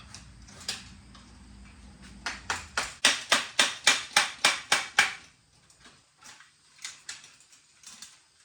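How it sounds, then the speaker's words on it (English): Sharp metallic hammer blows split an old rusted pipe off a joint on a sheep tractor frame, about ten evenly spaced strikes in a row, then a few lighter, scattered taps. "Just splitting that old piece of pipe off of the joint."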